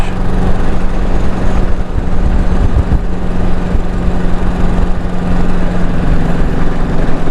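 The blue project motorcycle's engine running steadily and loud, with a constant low rumbling drone and mechanical clatter close by, without speech.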